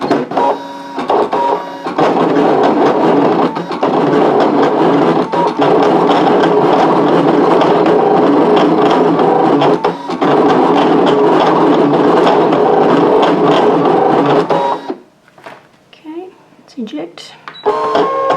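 A Brother ScanNCut machine cuts gift tags with a blade set to 4, a loud continuous whirring and clattering motor that runs steadily for about fifteen seconds, then stops, leaving a few soft clicks.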